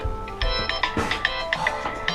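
A phone ringtone sounds during a town planning board meeting in a room, a loud melodic sequence of repeated electronic tones with a rhythmic pattern, heard alone.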